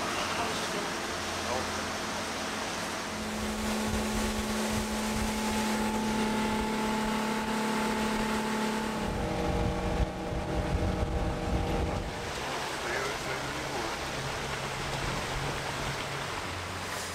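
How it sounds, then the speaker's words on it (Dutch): A fast motorboat on the water near Sneek in Friesland runs with a loud, broad engine roar and rushing water noise, its tone shifting as it moves, with people talking at times. "snelle motorboot provincie Friesland. We zijn vanmiddag op het water rondom Sneek te vinden"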